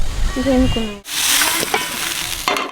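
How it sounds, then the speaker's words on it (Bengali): Chicken for butter chicken sizzles loudly in a hot pan close by, a constant crackling hiss, with a brief voice heard at the start. "বৌদি মাংসটা ভাজছে"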